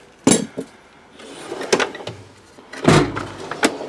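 A tool chest drawer full of cobalt and standard wrenches slides open with a scraping rumble, and the tools inside clatter and knock with a few sharp metallic clunks, close by.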